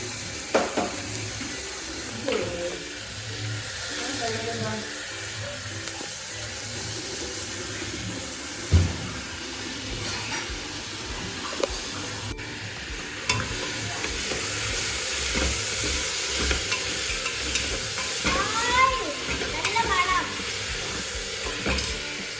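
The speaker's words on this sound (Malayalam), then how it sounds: "നമ്മൾക്കിടെ ബീഫ് കറി റെഡി ആയിക്കൊണ്ടിരിക്കുകയാണ് നമ്മൾ ഉള്ളി ഇതിലോട്ട് ഇടുവാണ്" Onions frying in a pan for beef curry, a steady moderate sizzle with occasional stirring clatter and some faint background voices, running continuously at close range.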